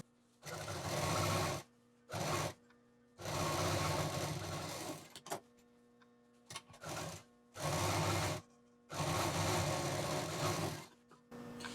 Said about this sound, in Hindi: पहले हम ये जो हमारा 16 इंच का हिस्सा है इसको पूरा सिल देंगे